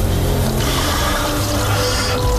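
Water pours steadily onto soil packed into a container, a constant close rushing splash with no break.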